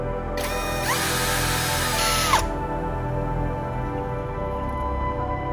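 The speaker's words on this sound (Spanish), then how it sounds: "Con el taladro y un avellanador, repasaremos de esta manera el orificio del tubo." A hand-held power drill fitted with a countersink bit reams the hole in a metal tube for a homemade cooling machine, giving a loud, high whine for about two seconds that drops in pitch as the bit bites, then a low hum.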